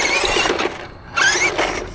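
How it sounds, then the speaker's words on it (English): Tires of a Tamiya CC-02 Mercedes G 500 RC crawler squeal on hard acceleration, two loud bursts of screech with a short gap between them. "it screeches tires just like the old combo"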